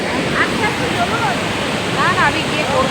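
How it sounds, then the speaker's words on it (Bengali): Dassam Falls on the Kanchi river roars as a loud, continuous rush of falling water close by, with voices talking faintly over the steady noise. "ফলসটা দেখিয়ে নিচ্ছি। জলের স্পিড কত"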